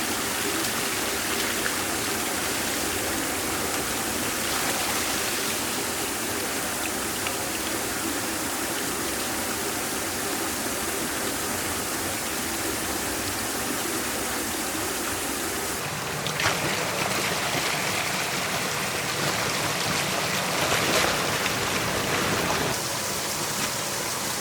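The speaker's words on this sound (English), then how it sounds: "I'm going to clean the pipe just by running water down it" Water rushes steadily through an old microhydro turbine pipe, a constant loud hissing roar that shifts to a rougher, splashier texture partway through before settling again.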